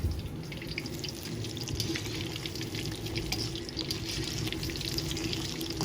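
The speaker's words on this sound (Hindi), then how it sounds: "बिल्कुल हल्की आंच पे आपने फिश को फ्राई करना है।" Fish pakora frying in a pan over a very low flame, a steady soft sizzle with faint crackling and occasional light pops running continuously, close by, with no talking.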